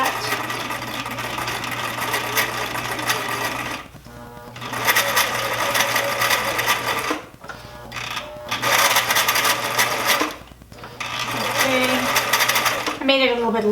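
A sewing machine stitches a second line of thread along a garment sleeve, running in loud rattling bursts with brief pauses between runs.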